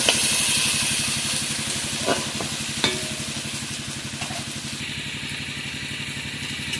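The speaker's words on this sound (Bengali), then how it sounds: "টমেটোটাও ভালোভাবে ভেজে নেবো।" Chopped tomatoes fry in oil in a pan for crab curry, a steady close sizzle with a low rhythmic churn beneath and a few brief clinks of a utensil, no voices.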